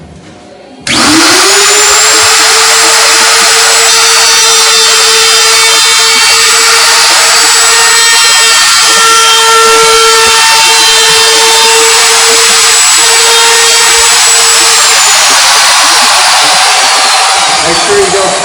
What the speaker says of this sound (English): when you turn this router on. The decibels are really loud.